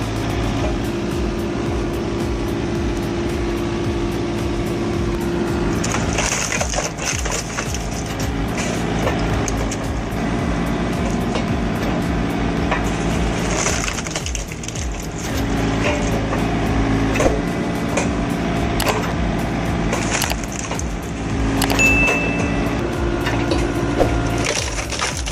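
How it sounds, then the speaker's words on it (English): A firewood processing machine splits thick timber rounds with loud cracking, splintering and crushing wood, over a steady machine drone, with bursts of breaking wood repeating across the stretch. "Thick timber breaks apart with crushing force, turning difficult rounds into usable firewood quickly."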